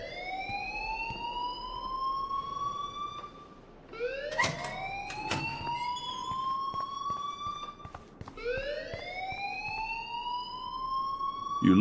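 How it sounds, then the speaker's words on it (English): A fire alarm rings in the video game Life is Strange: a rising siren-like wail that repeats in long sweeps, loud and continuous, with sharp clicks and bangs in between. "please turn off that alarm since that's your job"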